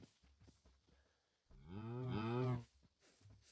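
A cow in a mining video game gives one long, deep moo lasting about a second, loud and full against quiet background sounds, with faint talk before and after.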